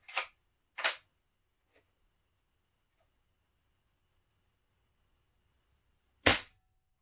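An Umarex Air Javelin air-powered arrow gun fires in sharp, close pneumatic bursts: two quick shots near the start, a faint tick, then one more loud release after a long silence.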